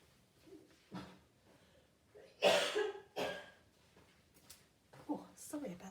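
A few sharp, close coughs from a person at a card-making table, bursting out alone between quieter moments with some throat sounds and brief speech nearby.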